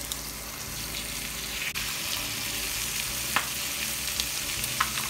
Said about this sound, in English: When it's nice and hot, we get our steaks. We put them in, touching the sides